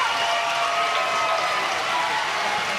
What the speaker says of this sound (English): Maine and their crowd celebrating the first hit of the day